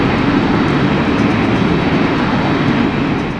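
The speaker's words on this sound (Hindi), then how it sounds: "तेजी से नीचे आता हुआ प्लेन आखिरकार रनवे 30 लेफ्ट को टच करता है" A passenger jet on American Flight 1400 comes down onto runway 30 Left, its broad roaring rush steady and loud throughout, with no voices.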